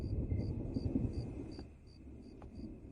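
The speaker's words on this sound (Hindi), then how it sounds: "चलो अंदर चलो मोहतरमा, तूफान आने वाला है।" Thunder rumbles low and continuous ahead of an approaching storm, with strong wind, moderately loud and steady, while faint insect chirps repeat softly in the background; no one speaks.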